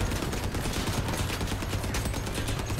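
Gunfire from small guns on a vehicle in the video game Crossout rattles in rapid, dense bursts, a continuous loud crackle of shots with no voices.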